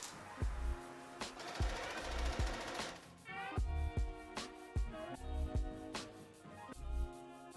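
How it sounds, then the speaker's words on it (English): A sewing machine stitches a curved seam while making a dress, running in short rhythmic bursts of rapid mechanical thumping with brief stops between runs. "line these two pieces around the curved seam and stitch it in place"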